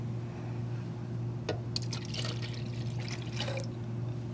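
Orange juice is poured into a blender for a fruit and spinach smoothie, a soft liquid splash lasting about two seconds over a low steady hum.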